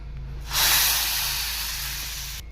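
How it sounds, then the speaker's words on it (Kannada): Tempering for a greens sambar sizzles sharply in a pan, a bright steady hiss bursting in at once and fading slowly before cutting off, with no talking. "ಈಗ ಒಗ್ಗರಣೆ ರೆಡಿಯಾಗಿದೆ."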